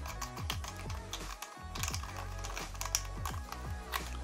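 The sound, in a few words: unscrewing base part of Pelonis tower fan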